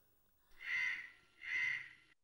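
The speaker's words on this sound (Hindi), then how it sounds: "बच्चे को खाना खाने में कौवा परेशान कर रहा है" A crow caws twice in a scene from a Hindi-dubbed film where it pesters a child being fed. The two harsh, drawn-out calls come close together, each about half a second long, loud and clear with no talk over them.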